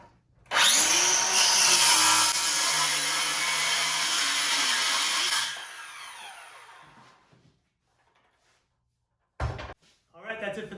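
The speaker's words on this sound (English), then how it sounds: "now it's time to cut it in half" Power saw cutting a wooden panel in half: a loud, close, continuous whine for about five seconds that spins down into silence, followed by a couple of clunks.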